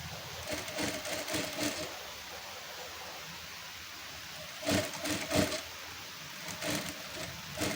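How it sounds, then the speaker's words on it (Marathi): Sewing machine running in a few short bursts as it stitches along a folded fabric edge for a frill, with rattling runs near the start and middle and a steady faint hiss between them. "आपण फोल्ड करून साईडला तुम्ही टीप मारून घ्या"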